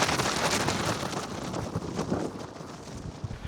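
Strong, cold wind buffets the microphone in a steady roaring rush with gusty swells, loud and close, by a jetty on the Yorke Peninsula, with no one speaking.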